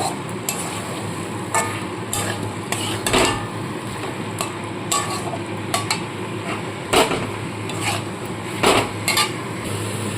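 New potatoes being stir-fried with spices in a pan for a boal fish head curry, with repeated clinks and scrapes of a spoon against metal over a steady low sizzle.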